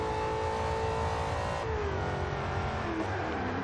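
A 2009 Chevrolet Corvette accelerating on a highway in Forza Horizon 2, its engine droning loudly with a rising tone, then a gear change at about 1.6 seconds before it pulls on again.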